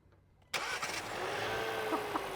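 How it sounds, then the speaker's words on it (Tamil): A new Duster's engine cranks and catches abruptly, then settles into a steady idle nearby. "இப்போ வச்சாச்சு, வண்டியை ஸ்டார்ட் பண்ணலாம்."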